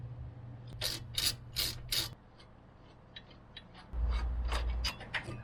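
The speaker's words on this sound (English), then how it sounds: "the next thing we want to do is remove these two bolts right here" Bolts are loosened from the brake caliper of a Mercedes Sprinter van, giving short grinding ratchet bursts in two separate groups with quiet pauses between them, close by and fairly faint.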